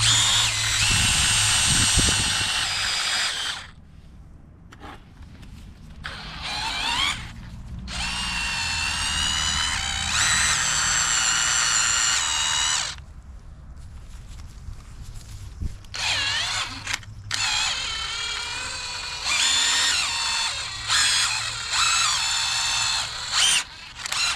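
A drill with a mixing paddle stirs self-leveling floor compound in several bursts, each a loud, close whine that churns and labors, separated by short pauses. No talking is heard.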